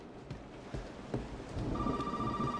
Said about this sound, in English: Oh, of course the phone rings.